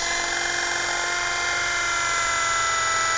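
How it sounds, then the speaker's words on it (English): A One Touch cordless electric knife whirs steadily and loudly from start to finish with no pause, its high motor buzz held close and even throughout. "Let's go ahead and get our one-touch cordless knife."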